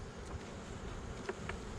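Honeybees buzz around an open hive during an inspection, a steady insect drone with a few louder individual bees passing close, no voices.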